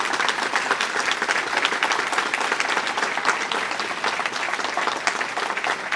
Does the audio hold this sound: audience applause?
yes